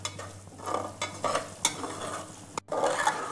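Semolina roasting in ghee for sooji halwa: a spoon scrapes and stirs in quick repeated strokes over a soft, steady sizzle, close up with no talking.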